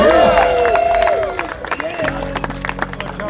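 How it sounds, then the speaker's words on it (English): A crowd at a mask burning event claps and cheers, with voices and a whistle-like cry over scattered applause, close and loud at first before thinning into looser claps. "Give yourselves a big round of applause."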